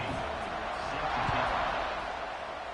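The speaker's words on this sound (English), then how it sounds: "this crowd is buzzing after that last score" Stadium crowd at a college football game buzzing with a steady, broad roar through the whole stretch, no single voice standing out.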